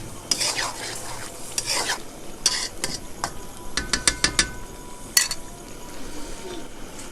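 Chicken karahi being stirred in the pan, with a quick run of close metallic scrapes and clinks of the ladle against the pan over a low sizzle, busier toward the middle.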